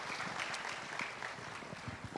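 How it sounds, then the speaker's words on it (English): Conference audience applauding the panel speakers at a corporate event, a steady dense wash of clapping sustained throughout at moderate loudness, with no voices. "a big round of applause for our speakers as well"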